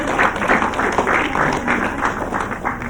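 A studio audience on an Indonesian TV comedy show claps in a loud, even burst that holds steady throughout, with a faint voice or two mixed in beneath the clapping.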